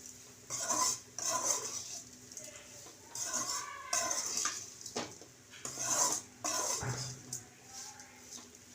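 A spoon scrapes and clatters against a pan as raw banana curry is stirred and sautéed over a low flame, in repeated bursts of metallic scraping and sizzling with pauses between them.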